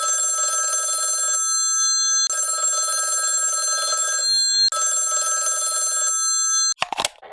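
An old telephone bell rings on a call to Murray Hill 40098 in a radio drama, sounding three long, steady rings separated by short pauses, followed by a brief clatter as the receiver is picked up.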